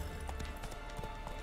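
Roach, a horse in The Witcher 3, gallops with steady clip-clop hoofbeats close by over a dense game soundscape, with no speech.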